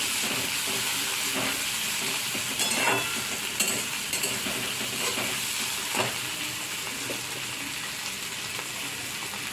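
Grated ginger fries in a pan for egg tadka, giving a steady close sizzle and hiss broken by occasional stirring scrapes. There is no talking.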